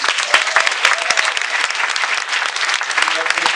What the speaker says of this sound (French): notre équipe, on peut l'applaudir.